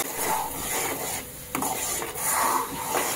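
A spoon scrapes and stirs ground masala paste frying in oil in a pan for a Malvani pomfret fry, a continuous close rasping and rubbing with brief pauses, no voices.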